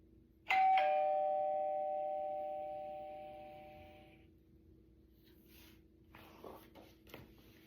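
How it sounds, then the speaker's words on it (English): A doorbell rings once with a bright two-tone chime that rings out and slowly decays over several seconds, followed by a few faint knocks and rustles in a quiet room. "And the doorbell rang."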